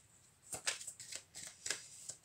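Tarot cards being shuffled by hand, several quick riffling bursts and soft slaps in uneven rhythm, close but quiet.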